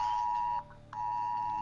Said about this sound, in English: Random alert popped up on my phone.